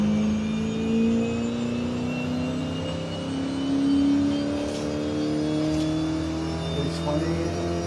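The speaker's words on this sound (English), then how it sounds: "Listen to the turbo" Twin-turbocharged car engine in Forza Horizon 5, played on a Fanatec CSL DD wheel, holding a steady, droning high-rev pitch that climbs slowly as the car accelerates. A faint whine rides over the engine tone.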